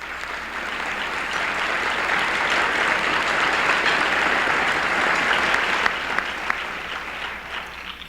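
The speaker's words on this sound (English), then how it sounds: "let's give them a round of applause" An audience at a club luncheon in a convention center bursts into sustained applause, a dense, loud wash of clapping that swells and carries on for several seconds.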